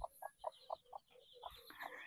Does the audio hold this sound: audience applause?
no